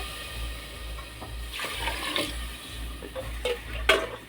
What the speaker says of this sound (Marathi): ह्यामध्ये पाणी ओतून घेऊ आपण, 3 तांबे पाणी ओतून घेऊ यामध्ये